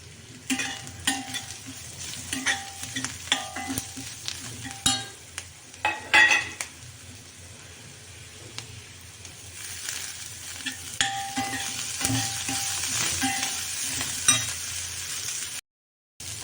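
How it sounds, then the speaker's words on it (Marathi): A tempering of cumin powder, turmeric and asafoetida fries in hot oil, sizzling steadily under repeated clinks and scrapes of a spoon stirring in the pan. "आता आपली फोडणी छान तयार झालेली आहे"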